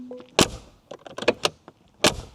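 Door latches on a 2026 Mercedes-AMG G63 snap in sharp, close clicks and clunks, a quick cluster of metallic taps followed by a final solid latch, preceded by a brief low whir.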